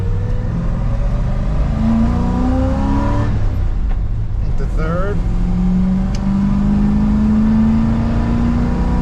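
A 1985 Chevrolet Suburban squarebody with an NV4500 manual gearbox pulls hard in third gear on the road. The loud, steady engine drone climbs in pitch throughout, with a brief shift-like dip in the middle and a voice talking over it.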